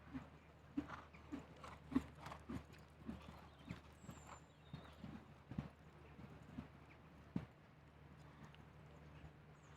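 Hooves of a big, deliberate-striding horse clip-clop in a steady rhythm across a show jumping arena at an Event Rider Masters competition, faint and somewhat distant against a low background hum.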